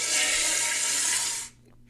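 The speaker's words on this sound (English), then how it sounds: "throw up and flush the toilet." A toilet flushes with a steady, hissing rush of water that runs for about a second and a half, then cuts off sharply into quiet room tone.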